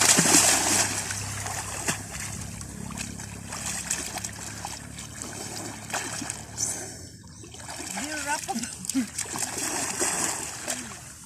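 People bathing in the sea splash and churn the water close by in irregular bursts, with voices talking over the splashes.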